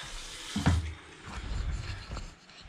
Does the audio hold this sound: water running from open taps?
yes